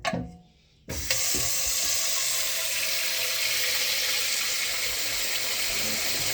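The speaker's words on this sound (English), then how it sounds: "Get that water in that pot." Water from a kitchen tap gushes steadily into a pot after a brief clatter, a loud continuous splashing rush with no talking.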